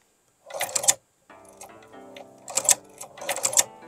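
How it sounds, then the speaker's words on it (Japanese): A Chinese eight-direction shoe repair sewing machine stitches a shoe insole in three short bursts of rapid clicking, close and loud, with quiet gaps between them where a faint mechanical hum continues. "まあ、これで縫いましょう。 最初はこう縫って"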